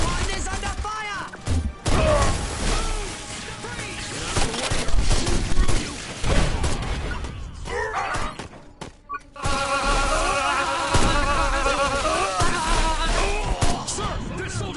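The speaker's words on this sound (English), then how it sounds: "Tower 1 is under fire!" Gunfire, crashes and explosions in Destroy All Humans as a tower comes under attack, a dense continuous barrage of thuds and bursts, loud throughout, with game voices shouting over the fighting.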